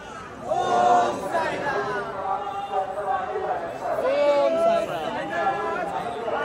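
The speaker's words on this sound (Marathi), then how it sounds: "बघू शकता गर्दी तर लय आहे" A dense crowd of devotees packs Dwarkamai in Shirdi, steady chatter and murmuring all around, with a nearby voice talking clearly over the hubbub.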